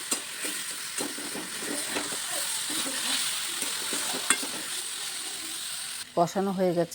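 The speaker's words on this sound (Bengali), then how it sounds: "আমি খুব ভালো করে নেড়েচেড়ে এটাকে কষিয়ে রান্না করে নেব।" Spice paste for a borli fish curry sizzles in a pan and is stirred continuously with repeated scraping strokes. Near the end the stirring stops and a person starts speaking.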